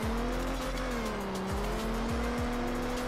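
Continuous tire squeal from a Mustang drifting in the Rebaixados Elite Brasil game, over a steady, wavering engine note, loud and sustained for several seconds with no voices.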